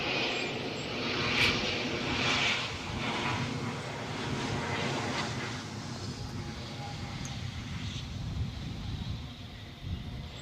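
A trijet aircraft passes at Guernsey Airport, its engines giving a steady, loud roar with rumbling low end and some wind buffeting on the microphone, sustained across the whole stretch without voices.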